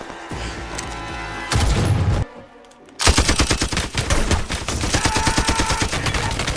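A film shootout at a house: bursts of rapid gunfire and single shots ring out, with a brief lull before a denser volley of loud automatic fire with sharp repeated reports.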